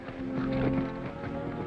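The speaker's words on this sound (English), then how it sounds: "Part of my job to look out after the horses." Horse hooves clip-clopping on the ground in an older film scene, a close, rapid run of knocks mixed with soft rumbling and a faint tonal hum, steady for under two seconds.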